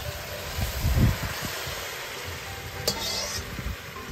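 Radish is sautéed in a hot pan, with a steady sizzle and some stirring scrapes and clinks up close, and a louder burst of stirring near the start.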